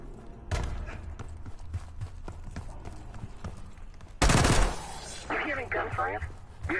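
Sharp gunshots crack repeatedly in an irregular series in the Black Ops 6 video game campaign, followed by a louder burst of rapid fire and lingering noisy clatter, with faint background talk.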